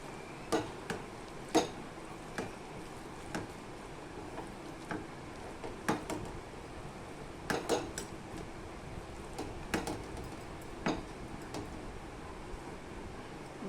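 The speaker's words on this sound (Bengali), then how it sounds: "সবগুলো একসাথেই মেখে নেব।" Mashed eggplant is mixed by hand with onion and coriander in a bowl, giving irregular soft clicks and taps over a quiet background.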